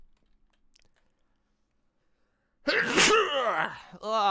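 After a stretch of near silence, one loud, close sneeze bursts out, followed by a short voiced sound.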